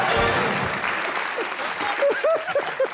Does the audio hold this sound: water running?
no